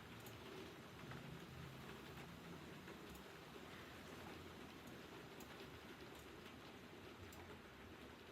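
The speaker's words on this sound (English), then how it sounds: "It's like properly raining for the first time in ages." Steady rain falls outdoors as a constant broadband hiss with scattered drop patter, continuous and even throughout, with no voices.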